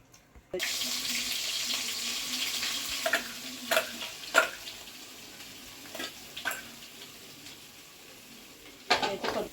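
A spice paste fries in a pan with a steady sizzle, broken by several sharp scrapes and knocks of a spoon stirring it, close and fairly loud, with no talking.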